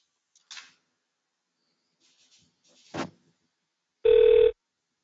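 After a few faint clicks of a number being dialed, a telephone ring tone sounds once, a short clear burst on a simulated phone line.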